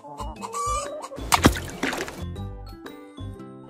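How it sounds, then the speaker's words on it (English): A hen clucks in a run of short, close, fairly loud clucks, with a brief squishy noise in the middle, heard on its own without talk. "Hen."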